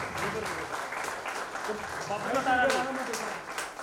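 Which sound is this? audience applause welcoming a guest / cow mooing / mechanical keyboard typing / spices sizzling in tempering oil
audience applause welcoming a guest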